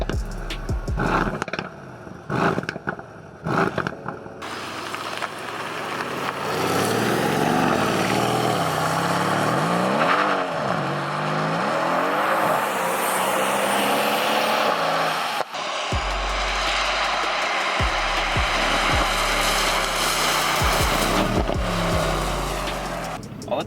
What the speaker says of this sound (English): Stock AMG performance exhaust, it's this loud.